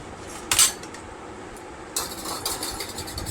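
A ladle knocks against pots while rice is served in a home kitchen: first a single sharp metallic clank, then a close rattling run of clinks, with no one speaking.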